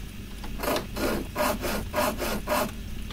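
Rhythmic back-and-forth sawing through a wooden chair in the fantasy adventure game The Book of Unwritten Tales, about five rasping strokes, close and steady, with no talk.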